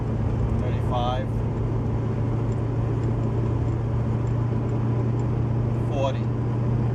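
A 1974 Chevy Nova cruising at about 40 mph up a slight incline gives a steady low engine drone and road noise throughout, with a couple of brief chirps over it.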